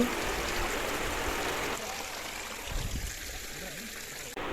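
Water rushes steadily in a stream, a continuous broadband flow that eases slightly partway through, with faint voices beneath.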